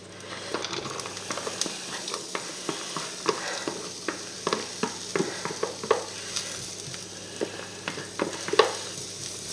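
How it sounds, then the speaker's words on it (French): Onions frying until golden in a pan, a steady low sizzle with scattered small pops and crackles throughout, close and fairly quiet, no talking. "on va mettre nos oignons à dorer"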